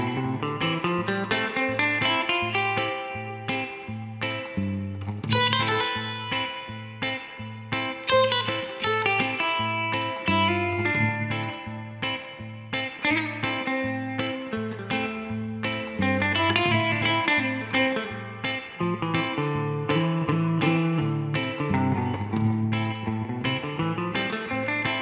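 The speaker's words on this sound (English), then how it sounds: "what we're hearing there is the minor scale" Electric guitar plays minor scale runs over a looping chord vamp, sustained melodic lines weaving above a steady rhythmic backing, continuous and prominent throughout.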